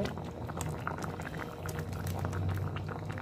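Cauliflower and potato curry bubbling at a steady boil in a pot, a continuous close, moderately loud burbling with no one speaking.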